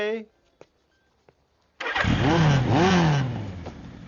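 A motorcycle engine starts abruptly after a few light clicks and settles into a loud, steady running note with slight revving, heard up close in a comedy scene.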